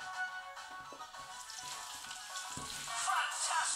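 A steady, hissing sizzle of cooking comes from a VTech Kidicom Max toy cooking game and continues as a faint, continuous fry-like noise that swells slightly near the end.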